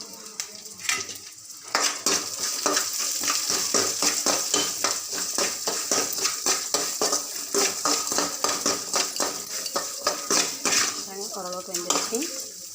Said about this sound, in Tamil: நல்ல பூண்டு வெங்காயம் நல்லா வேகட்டும்.